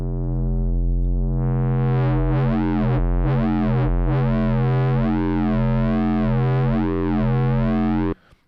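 Filtered synth bass in a neurobass-style sound-design patch, resonance switched off and the cutoff pulled down to the low mids, gives a sustained buzzy tone whose sweeping filter shapes it into vowel-like, robotic talking sounds, loud and alone before stopping abruptly.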